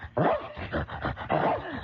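A dog gives a few close, loud barks and yips with a slight whine, two main bursts in quick succession.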